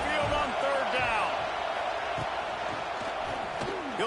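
Sustained, loud roar of the Alabama Crimson Tide home crowd at Saban Field on a third-down play against the Huskies in a college football game, a dense wash of cheering with scattered shouts throughout.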